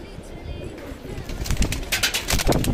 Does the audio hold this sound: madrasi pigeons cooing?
yes